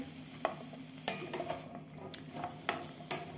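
Raw carrots seasoned with pepper being mixed in a dish, several sharp clinks and scrapes of a utensil against the bowl at an irregular pace, fairly close.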